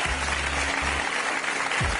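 Studio audience applauding on a French live television game show after a sketch with a pony, a dense steady wash of clapping with low hum underneath, lasting about two seconds.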